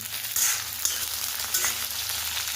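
Stuffed okra (bharli bhendi) frying in a pan over a low gas flame, a continuous close sizzle with a few brief spatula scrapes and crackles, no talk.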